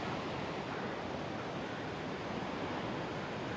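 Waves on a vast ocean produce a steady, unbroken wash of surf, soft and fairly distant, with no distinct breaking crashes and no one speaking.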